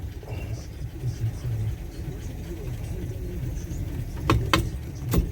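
A 1965 Chevy truck rumbles with a low, steady engine drone as it heads out onto the road, with a few sharp knocks near the end and people talking over it.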